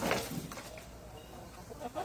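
Guinea fowl cry out in a burst of agitated, overlapping calls on a farm, loudest at the start and again near the end, rising over quieter outdoor background.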